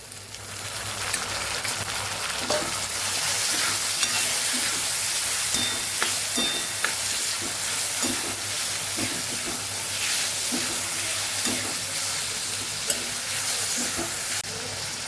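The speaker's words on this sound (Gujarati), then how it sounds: "અહીંયા આપણી લસણ મરચાંની પેસ્ટ છે એ સરસ સતળાઈ ગઈ છે" Garlic chili paste sizzles in a hot pan while cooking Kathiyawadi peanut-tomato curry, a continuous bright hiss broken by small pops and crackles.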